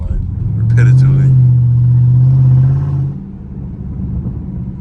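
A Dodge Scat Pack launching hard from a stop, its V8 surging into a loud, deep, sustained roar for about two seconds before easing off to a lower rumble, with a voice talking over it.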